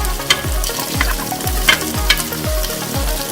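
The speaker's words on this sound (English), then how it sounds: "So now I'm just going to saute this for another couple minutes until it starts to brown just a little bit." Carrots, celery and shallots sautéing in a pan, a bright continuous sizzle broken by regular rhythmic stirring strokes roughly every half second, close and clear, no voices.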